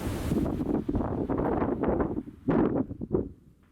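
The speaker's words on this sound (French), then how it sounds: "Donc vous l'entendez, il y a quand même beaucoup de vent." Gusty storm wind buffets the microphone in rough, roaring bursts that swell and drop over a few seconds.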